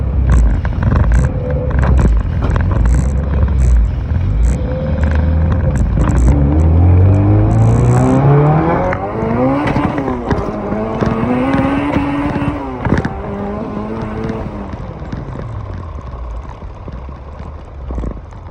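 An EG coupe's engine revs hard through two or three acceleration pulls, a loud, close growl climbing steadily in pitch, dropping at each shift, then climbing again before easing off.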